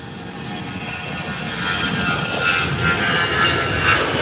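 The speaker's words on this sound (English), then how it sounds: "And here comes Delta Airline rolling down the runway. Getting ready for takeoff." A Delta airliner rolls down the runway on its takeoff run, its jet engines roaring steadily and building slightly in loudness, heard from a moderate distance with no talk over it.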